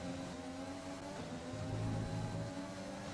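Race car engines whine in the F1 2020 racing game, a faint, sustained high-pitched drone with shifting tones as the car accelerates and lifts, with no voices heard.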